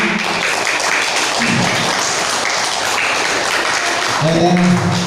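Applause at a school Pancasila student profile project event, with children and teachers clapping steadily throughout, mixed with talk and a louder voice rising near the end.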